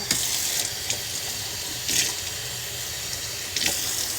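Tap water runs steadily into a cooking pot during home cooking of smothered chicken and rice, a continuous close hiss and splash with a few brief surges, no talking.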